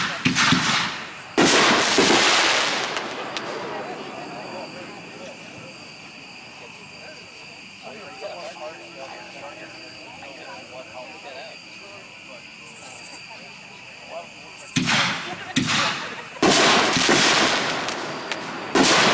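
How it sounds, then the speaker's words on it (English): God Bless America 5-inch artillery shell fireworks are launched and burst at an outdoor fireworks demo. Loud booming reports come in clusters at the start and again near the end, with crackling and a quieter stretch between them. "another artillery shell, God Bless America, packed 336"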